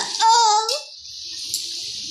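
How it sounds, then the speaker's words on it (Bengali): Water poured into chicken curry cooking in a pot, a steady hissing pour lasting over a second, starting right after a brief voice. "আমি জলটা দিয়ে দিচ্ছি।"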